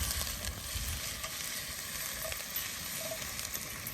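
Bacon sizzles and crackles continuously in a pan for a lamb stew, with faint scraping and clinks as it is stirred and separated.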